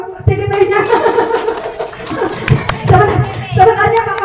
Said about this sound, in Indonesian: Tepuk tangan dulu buat fasilitator kita.